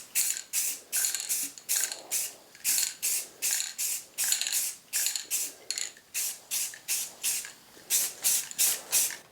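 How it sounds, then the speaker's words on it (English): A flat black spray can mists PVC parts for a DIY quarterstaff in light back-and-forth passes: a steady series of about twenty short, even hissing bursts separated by brief pauses, close to the microphone and alone. "spray all of the pieces with flat black. Use light mist coats in a back and forth motion."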